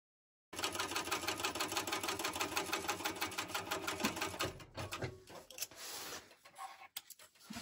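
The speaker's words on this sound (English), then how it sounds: "I'm going to base stitch the side, top stitch the bottom, base stitch the other side." A sewing machine stitching a bucket bag, a close, rapid mechanical chatter of even needle strokes running for several seconds before slowing into irregular bursts and stops.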